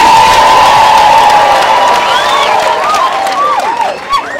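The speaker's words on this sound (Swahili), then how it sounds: "Kama unaamini, nipigie Yesu makofi mazuri." A church congregation applauds and cheers loudly and continuously, with whoops and high shouts rising near the end.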